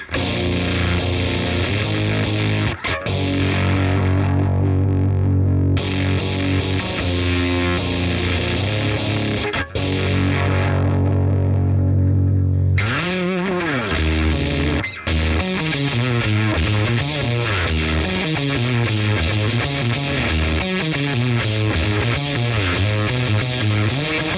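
Electric guitar through a germanium or silicon fuzz pedal with the guitar volume rolled fully up, loud and saturated, sustained chords ringing out, then a run of bending, wavering fuzzed single notes, alone without talk.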